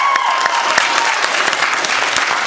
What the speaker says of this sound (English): Whoever gets the biggest round of applause wins the debate.